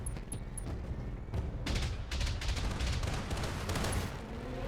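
In the BattleTech video game, turrets fire on a mech, producing dense bursts of booming gunfire and explosions that rumble continuously and run together at moderate loudness.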